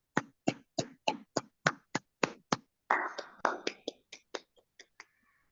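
A small group at a thesis defense ceremony claps in sharp, evenly spaced strokes that grow denser and overlapping midway, then thin to a few scattered claps and fade, close and fairly quiet.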